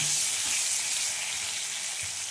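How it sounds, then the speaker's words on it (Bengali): Medium-sized potato pieces fry in hot oil, giving a close, steady crackling sizzle that fills the short stretch with a few soft bumps of movement underneath. "দুটো আলু কেটে নিয়েছি মিডিয়াম সাইজে, এগুলো ভেজে নেব।"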